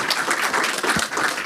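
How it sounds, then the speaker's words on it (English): Brief burst of warm applause for Barbara from an audience at a book prize ceremony, a short patch of steady clapping. "Please join me in one more warm round of applause for Barbara."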